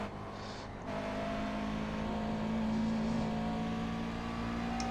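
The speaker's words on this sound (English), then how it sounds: "You can hear me mid-corner there, just getting off the throttle just to allow myself to turn the car in." A race car in the iRacing simulator lifts off the throttle mid-corner, the engine note dropping from a sharp rev to a steadier, moderate whir that holds and swells slightly, with no voices.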